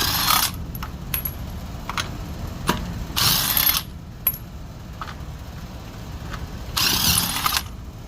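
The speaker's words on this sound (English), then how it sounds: "if you don't have one, you just use the normal wrench that comes with the vehicle" Lug nuts on a 2008 Toyota Avalon Limited wheel are worked loose with the vehicle's stock wrench, giving a few separate bursts of metallic ratcheting and clinking, with small taps and rattles in between and no talking.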